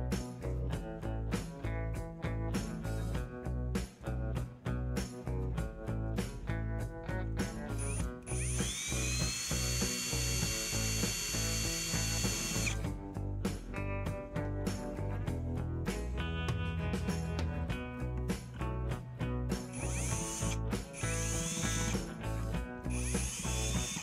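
A small screw being driven in by hand during the conversion of a Fiat Ducato van into a camper, with a continuous close ratcheting clatter and brief higher mechanical whines in between.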